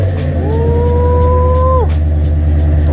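A car called Penny, snowed in, runs with a steady low engine rumble, and a tone glides up, holds, then drops off, loud and close.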